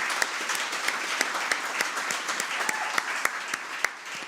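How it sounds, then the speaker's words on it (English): An audience at an opening event breaks into sustained applause, a dense, steady wash of many hands clapping with a few sharper individual claps standing out throughout. "that deserves a round of applause"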